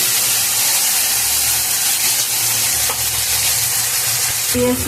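Cumin and ginger paste hitting hot oil in a pan for a sweet pumpkin greens dish, giving a loud, steady, close sizzle that runs unbroken, with a brief clatter near the end.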